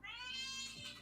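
A cat lets out a single drawn-out, rising and falling meow, close and clear, lasting about a second.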